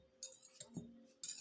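A spoon stirring thick natural honey in a container, a few faint clinks and scrapes against the sides spread over a quiet moment.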